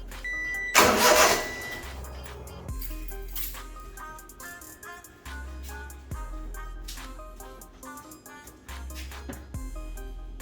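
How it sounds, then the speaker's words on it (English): An Acty engine that won't start cranks on its starter motor in repeated bursts, a steady whirring churn that stops and restarts several times, close and loud. "bump the starter a bit and get it to turn over"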